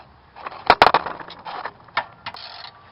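A ratchet or breaker bar works loose a shock absorber bolt on a Toyota, giving a few close, sharp metallic clicks and clanks in irregular bursts with short gaps between them.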